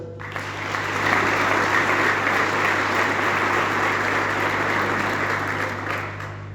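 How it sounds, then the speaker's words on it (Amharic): Continuous applause from a church congregation clapping for the glory of God, steady and fairly loud throughout, swelling after the first second and holding evenly with a low hum underneath. "እስኪ ከኔ ጋር ያላችሁ ለጌታ ክብር አጨብጭቡ።"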